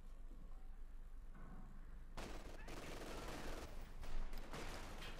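Gunfire from snipers and a machine gun in a Company of Heroes 2 battle, starting after a quiet couple of seconds and then continuing as dense overlapping bursts and volleys that rise to a loud peak near the end.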